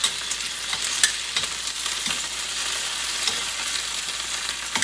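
Tomatoes, chilies, onions and garlic roast in a pan for salsa with a loud, steady sizzle. Frequent sharp clatters of turning and stirring break into it.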